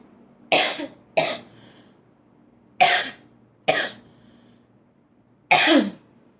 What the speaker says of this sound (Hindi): सॉरी गाइस, थोड़ा मुझे खांसी है।